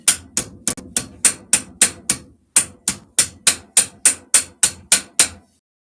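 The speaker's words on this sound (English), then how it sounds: "Ball joint hammer, ball end." Sharp, ringing metallic blows from a ball-end hammer knocking out a suspension bush on a Triumph Spitfire, about eighteen evenly spaced strikes with a brief pause partway through, close and loud with no talk.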